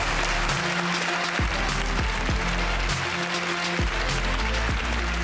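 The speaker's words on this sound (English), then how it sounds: "Let's hear it for Clara and Alicia!" Sustained studio audience applause on a TV magazine show's live final, a dense, steady wash of clapping at full level with a few cheers, running unbroken throughout.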